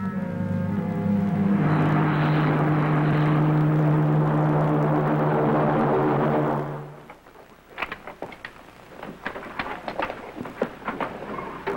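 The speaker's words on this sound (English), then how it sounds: "The spaceship blasts off from the enemy planet Regalio and is approaching Herculon for a landing." A 1950s TV spaceship flies in to land with a loud, sustained roaring whoosh that cuts off after about seven seconds. Scattered clattering knocks follow at lower volume.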